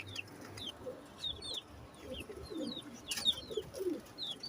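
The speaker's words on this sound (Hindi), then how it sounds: "माशाल्लाह बहुत अच्छे कबूतर हैं।" Pet pigeons, two male-female pairs of fancy Teddy pigeons, cooing softly with low repeated murmurs amid scattered chirps of other birds nearby, no talking.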